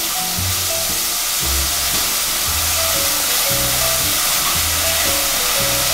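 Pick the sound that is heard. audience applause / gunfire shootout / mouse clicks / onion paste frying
onion paste frying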